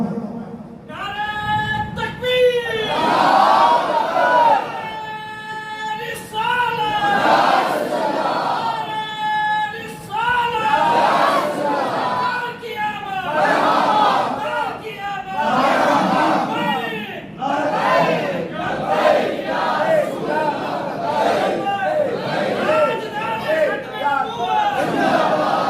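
Large crowd at a religious gathering roars a slogan back in unison after a leader's call, loud repeated shouted bursts filling the space.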